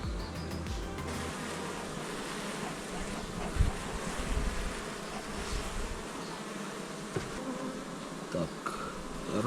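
Honeybees buzz around an opened hive, a dense, continuous droning swarm close by with occasional louder passes and light handling noises, and no talk.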